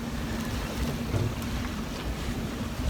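A Seawind sailboat sails singlehanded under its trigger sail in 15 knots of wind, with a constant rush of wind and water against the hull, steady and fairly loud, with no talking.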